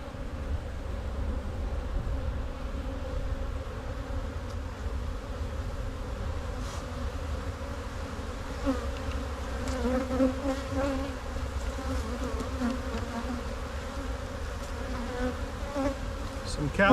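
Honey bees buzz steadily around an open colony during a hive inspection, a dense, continuous drone close to the microphone with faint handling sounds and no talk.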